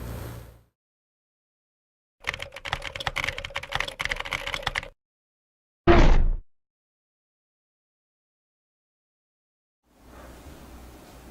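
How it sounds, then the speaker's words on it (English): Typing on a Tecware Phantom mechanical keyboard with Outemu brown switches makes a close burst of quick, even keystrokes lasting about three seconds, then one short loud clack, with gaps of silence and faint noise at each end. "We have the Tecware Phantom backlit mechanical keyboard, specifically the Outemu brown version with the white backlighting."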